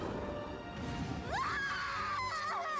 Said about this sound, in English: That is a scream.